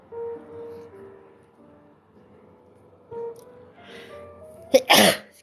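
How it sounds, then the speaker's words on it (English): A person sneezes once, loud and close, with a sharp intake just before the burst, near the end of a quiet stretch of faint background tones and low murmur. "I should go spray my nose because I'm going to keep sneezing."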